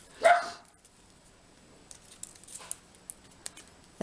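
A dog barks once fairly close and loud at the start of a quiet indoor room, followed by faint scattered taps and small noises with no talking.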